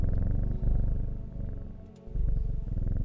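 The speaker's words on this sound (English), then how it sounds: "Kitty purry." A cat purring in the video game Strange Horticulture, a close, steady, rumbling low purr that dips briefly midway before resuming, with no talking.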